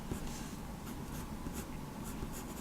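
Pencil sketching on paper while blue lining a comic drawing, close scratchy strokes rubbing back and forth in quick repeated bursts, with no voices.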